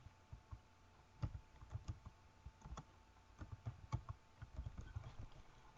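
Fingers type on a computer keyboard in a burst of light clicking keystrokes with small pauses between them, close by with no talking.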